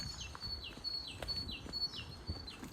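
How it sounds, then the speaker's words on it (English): Soft, repeated bird chirps in a rhythmic series of short descending notes over quiet woodland ambience. "Nothing lovelier than the sound of birdsong experienced in a woodland."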